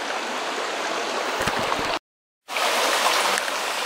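Bemis Stream flowing at a rocky ford on the Appalachian Trail in Maine, a steady close rushing babble of water, briefly cut out by a half-second gap of silence midway.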